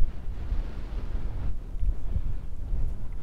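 Strong gusting wind buffets the microphone out in open marsh mud near a beached skiff, a continuous low roaring rush with uneven surges.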